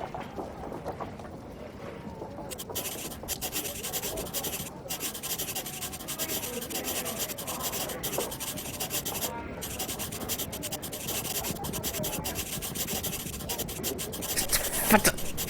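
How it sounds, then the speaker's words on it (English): A pencil rubbed back and forth over paper to bring out hidden traces in a Sherlock Holmes detective game, a steady close scratchy scraping that runs continuously with brief pauses between strokes. "To begin with, a few strokes of the pencil will be enough."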